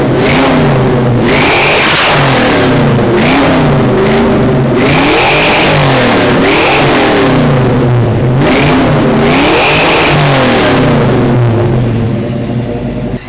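Ford Mustang 5.0 V8 on a cold start, revved repeatedly in loud, swelling bursts that fall back toward idle between them, close and steady throughout, with no talking.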